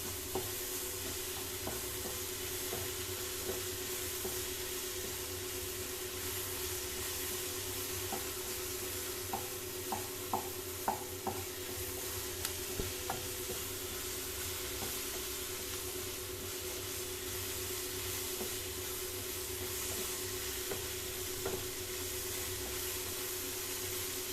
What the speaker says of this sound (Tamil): இந்த தேங்காய் கட் பண்ணி வச்சுருக்கு இல்லையா தேங்காய் இந்த பூண்டு ஒரு பட்டை புளி இதெல்லாம் போட்டு லைட்டாக வச்சுக்கணும்